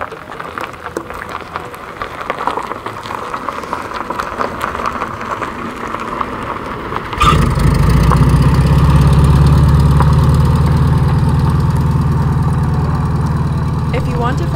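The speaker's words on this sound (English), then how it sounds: "there's a big school bus." A big school bus engine idles in Tombstone, Arizona, a loud low steady rumble that starts partway through and continues under a person talking, with wind and rain-like hiss in the background.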